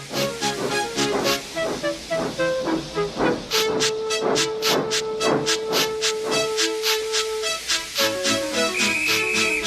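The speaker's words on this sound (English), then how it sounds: "Gordon, with much noise and blowing of steam," A steam locomotive blows off steam with loud rhythmic hissing chuffs and a sustained whistle tone, the bursts repeating steadily and close, with brief higher whistle notes near the end and no talking.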